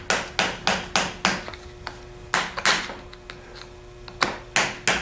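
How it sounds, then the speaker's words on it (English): A hammer tapping a screwdriver to tighten a plug fitted with a new O-ring: a series of sharp, close metallic taps in quick clusters with short gaps, loud and alone. "take a screwdriver and a hammer"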